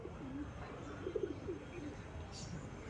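Pigeons giving a few soft, low cooing calls at a distance over a hushed outdoor background, faint and intermittent, with no clear talk.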